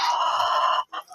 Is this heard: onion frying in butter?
no